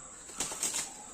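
A pet bird flapping its wings, a brief soft flurry of wingbeats at close range, faint against a steady background hiss.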